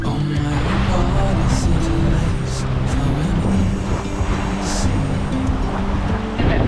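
A heeling sailboat cuts through waves at 6 to 7 knots, with a loud, continuous rush of water and wind and a faint low hum underneath.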